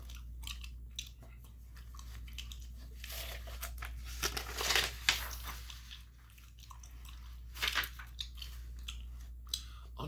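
Gum chewed close to the microphone for ASMR, with soft wet smacking and clicking mouth sounds repeating in an irregular rhythm, louder bursts in the middle and near the end, over a low steady hum, with no talking.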